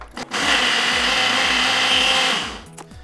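A blender grinding bananas and blueberries into a smoothie whirs loudly and steadily for a couple of seconds, the motor pitch wobbling as it churns, framed by short clunks at start and stop.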